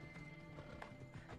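Horse in Assassin's Creed Odyssey, a short burst of hooves clip-clopping with a neigh, under a low steady background hum.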